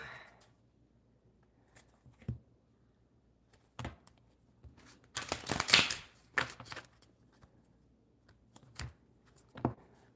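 A deck of tarot cards is shuffled in irregular soft bursts of riffling and flicking, building to a denser flurry midway, close up against a quiet room with no talking.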